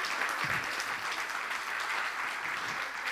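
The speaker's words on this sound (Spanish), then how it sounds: "Mira, mira, Pastillín, te ganaste un tremendo aplauso." A crowd at a mental health talk applauds steadily, a dense, even wash of clapping held at a constant level for a few seconds.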